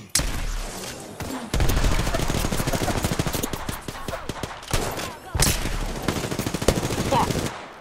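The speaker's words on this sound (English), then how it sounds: "I'm getting shot at." Rapid automatic gunfire in the shooter game Apex Legends rattles in long dense bursts, loud and close, with a brief pause between volleys and occasional voices underneath.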